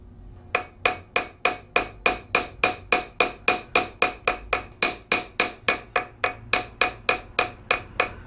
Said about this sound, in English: as you're hitting this gold with a steel, the metal's getting very compacted